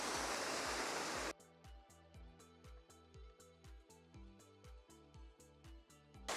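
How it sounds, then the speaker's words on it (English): Rushing water at Enders Falls pours as a loud broadband roar, which drops away early and leaves a repeating musical pattern for the rest. "Now we're really close to the waterfall, just to give you a sense of scale of this place."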